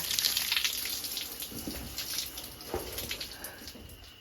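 Water runs from a tap on a farm, a steady broadband hiss with gurgling variation that stays fairly close and continuous, softening slightly toward the end.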